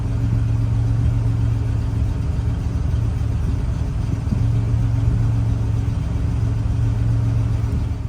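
A GM G-body car engine idles steadily nearby, with a low, even rumble and a constant hum that runs unbroken throughout, with no talking.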